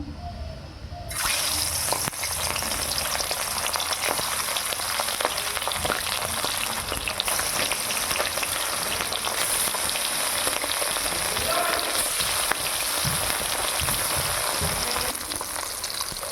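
Fish fries in hot mustard oil with a loud, steady sizzle and hiss. It starts suddenly and keeps going evenly throughout.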